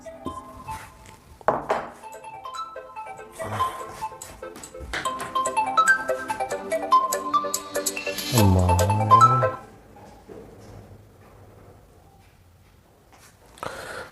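A phone rings with a melodic electronic ringtone during a Hindi grammar lesson, a clear tonal sequence in the middle with a thump and clatter near it, then quiet room tone afterward, with no talking.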